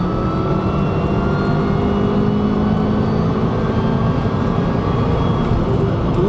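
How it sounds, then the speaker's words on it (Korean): A 1.6-liter four-cylinder engine with a supercharger revs hard toward nearly 7000 rpm. It gives a steady, loud, continuous drone with a rising pitch sweep near the end, and there is no talk over it. "우와, 거의 7000rpm까지 회전하는데요?"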